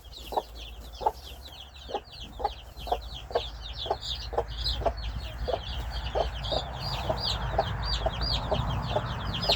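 A hen clucks in a steady, regular rhythm, with faint high cheeping of chicks layered above, close by over low background noise.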